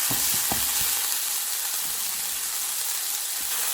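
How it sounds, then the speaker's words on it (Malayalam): Onions with salt fry in a pan with a dense, steady hiss, while a few quick stirring knocks land in the first second before the sizzle carries on alone. "എന്നിട്ട് നമുക്ക് ഇതൊന്ന് ഇളക്കി കൊടുക്കാം."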